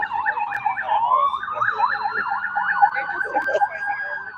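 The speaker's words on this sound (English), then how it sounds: "That sounds like an ambulance that's taking a Medicaid recipient to the hospital" An ambulance siren wails loudly in a steady rising-and-falling cycle throughout, with people talking underneath.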